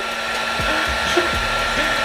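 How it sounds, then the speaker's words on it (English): A heat gun blows a steady, broad whoosh of hot air onto heat shrink tubing during automotive electric fan wiring for an LS-swapped Monte Carlo SS, continuous and close with no talk. "how much was your blow dryer? The heat gun?"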